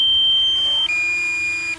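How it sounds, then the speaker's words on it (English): A steady high-pitched electronic beep from a DJI Mini 2 drone setup sounds continuously, dropping slightly in pitch partway through, loud and alone. "If I could do something about the beeping"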